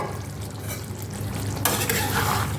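Egg and potato curry being stir-fried in a pan: a low, steady sizzle with soft stirring, then a sudden louder burst of hissing and scraping as the spoon works the pan.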